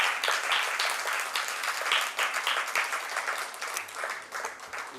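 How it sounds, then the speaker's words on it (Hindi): Sustained audience applause at an arts organization meeting in a hall, dense steady clapping for five seconds with a few louder individual claps. "एक बार जोरदार तालियां उनके लिए"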